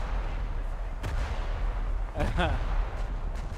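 Battleship main guns firing high-explosive shells in a naval video game, heard as a couple of sharp booms over a steady low rumble of ambience, with a voice speaking briefly.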